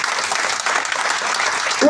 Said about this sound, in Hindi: एक बार जोरदार तालियां बजा दीजिए इन जोड़ों के लिए